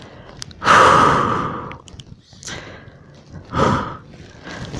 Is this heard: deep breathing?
yes